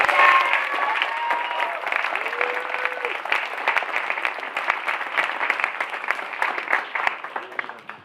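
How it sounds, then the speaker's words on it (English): Applause from the audience at a stage production of The Sound of Music rises in dense, sustained clapping with scattered cheers and voices, then tapers off toward the end. "Let's give them another round of applause."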